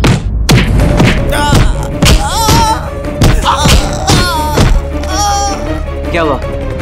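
Repeated heavy thuds of a man being beaten, several blows landing in an uneven rhythm amid shouting voices, music and a busy indoor royal-court scene.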